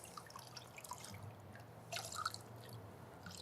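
Water drips from freshly hand-washed car polishing pads: a few faint, scattered drips and tiny splashes in an otherwise quiet space.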